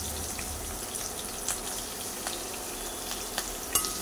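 Four finely chopped medium onions fry in spiced oil for Maharashtrian chole, a soft, steady hiss with occasional small crackles and light pan clicks, close but quiet and without any voices.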